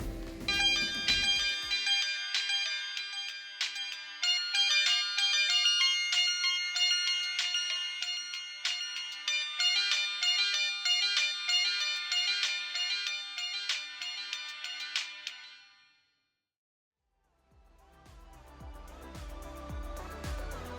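A Samsung Juke phone from 2007 plays a bright, busy ringtone melody steadily for about fifteen seconds, loud and alone, then cuts to near silence before other faint music begins.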